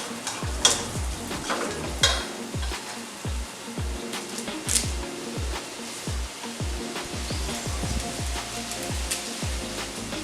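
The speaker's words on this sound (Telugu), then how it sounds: "ఉల్లిపాయలు, పచ్చిమిరపకాయలు ఇవన్నీ కమ్మగా వేగిపోయాయండి." Onions, green chillies and curry leaves frying in oil in a pan for masala paniyaram, with a steady sizzle and repeated low spoon-scraping strokes throughout, close and fairly loud, no voices.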